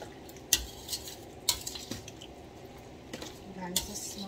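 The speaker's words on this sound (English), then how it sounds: "I'm going to give it a stir." Spoon stirring lemon juice in a bowl for Guyanese lime sour: several sharp clinks and scrapes against the container at irregular intervals, close and fairly quiet.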